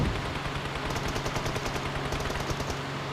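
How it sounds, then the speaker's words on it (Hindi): Gunfire in a battle royale video game crackles in rapid, continuous automatic bursts, loud and dense throughout, with no voices. "उधर से टीम नंबर 23 के माफिया भी फायरिंग कर रहे हैं।"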